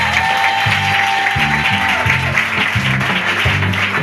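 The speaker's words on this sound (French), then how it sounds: "Clap for Jesus now." A congregation applauds at a bishop's consecration ceremony, with loud, dense clapping going on steadily for the whole stretch, accompanied by a held musical tone and some voices in the background.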